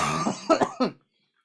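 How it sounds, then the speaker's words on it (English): A lingering post-COVID cough, a few short close hacking bursts trailing off after a rough throaty sound, then silence. "just ended up with the cough"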